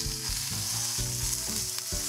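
Piri piri chicken pieces sizzle steadily while frying in a hot pan, a dense continuous crackle with a few low thumps and scrapes as pieces are turned, close and fairly loud with no talking.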